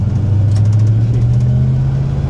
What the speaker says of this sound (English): That's the blinker going